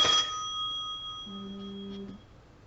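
A phone ringtone goes off partway through a quiet voiceover, a steady two-tone electronic ring lasting about a second with a high chirp just before it. It sounds moderately close, with no one talking over it.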